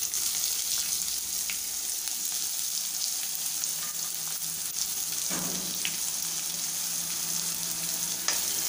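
Finely chopped medium onion frying in a pan, a steady close sizzle and crackle throughout with an occasional stir or scrape, no talking.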